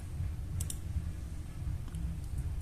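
Computer mouse clicks on an OK button during Epson EcoTank L495/L395 printer reset software setup: a few sharp, faint clicks over a steady low hum, with no voices.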